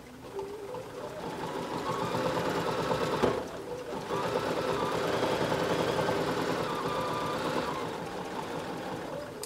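A quilting sewing machine runs continuously, its steady close-up mechanical hum rising slightly partway through, with no speech.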